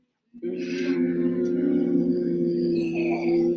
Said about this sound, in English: Make a low-pitched sound.